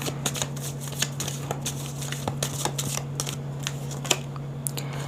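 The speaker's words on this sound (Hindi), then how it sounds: "एक बार और शफल करते हैं।" Tarot cards riffle and snap in repeated quick bursts of shuffling, close and crisp against a steady low hum in the room.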